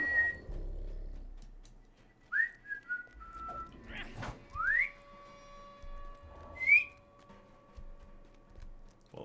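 Several short rising whistled notes in an online fantasy game setting, spaced irregularly over about nine seconds against a quiet background with faint low rumble.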